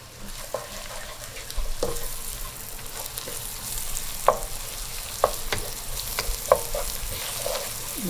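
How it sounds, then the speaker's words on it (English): Turmeric and garlic are stirred into browned ingredients in a frying pan, a soft constant sizzle broken by a few sharp scrapes and taps of the spoon against the pan. "I add the turmeric to it. and mix them together."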